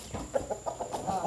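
Farmyard chickens cluck softly in a quick run of short calls, close by and fairly faint, while wild birds such as guans, curassows and muscovy ducks gather at a feeding spot.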